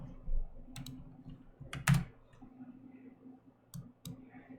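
A command is typed on a computer keyboard: a few scattered key clicks with one sharper tap near the middle, close and fairly quiet against a low room hum.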